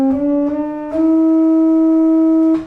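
Sustained organ tones step through a D Dorian scale on Vicentino's archicembalo-style organ with split keys, each held note changing pitch at roughly half-second to one-second intervals, clear and close with no talking.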